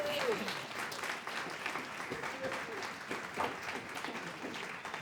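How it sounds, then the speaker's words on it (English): Applause from an audience at an in-person conversation event, a moderately quiet, sustained patter of many hands with a few voices and brief tones rising through it. "I want to do a round of applause for the ladies out here."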